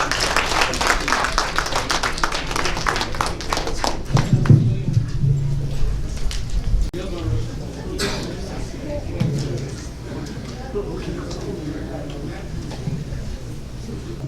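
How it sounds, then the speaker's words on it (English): A crowd claps in a dense burst of applause that gradually thins and fades, with voices murmuring beneath, at a political forum in Chicago. "A round of applause."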